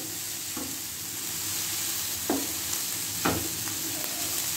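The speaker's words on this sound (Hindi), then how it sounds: "1 मिनट के लिए इसे फ्राई करते हैं।" Chicken and shredded cabbage fry in a pan with a steady low sizzle, and a few short spoon scrapes and clinks stand out now and then.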